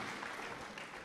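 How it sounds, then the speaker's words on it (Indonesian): An audience at an Indonesian discussion event applauds a student named Rahma, a brief, soft patter of many hands clapping that sounds somewhat distant. "Boleh tepuk tangan sekali lagi buat Rahma."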